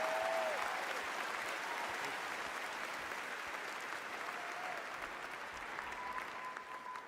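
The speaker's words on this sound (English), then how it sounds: "Let's give a big round of applause to these two guys for the great circle." An audience at The Game Awards 2024 applauds in a steady, dense wash of clapping that stays even and slowly eases off, heard from a distance through a livestream.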